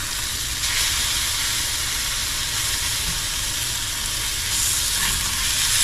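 Sausage frying in a cast iron pan during a country breakfast cook, giving a steady, loud sizzle and hiss that holds evenly throughout with no talking.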